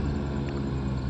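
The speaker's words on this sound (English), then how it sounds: "Here comes an airboat." An airboat pushed by a big air propeller passes, giving a steady loud droning roar with a low rumbling hum, heard alone without talk.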